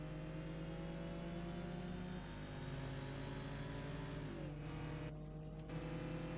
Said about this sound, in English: that is the engine noise of the Subaru that I can hear